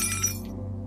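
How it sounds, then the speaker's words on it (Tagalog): A drinking glass hurled onto the floor shatters in one sharp crash, with bright fragments tinkling for a moment before the sound cuts off under a low steady background hum. "Sa tindi ng inis ay naibato niya ang hawak na baso sa sahig."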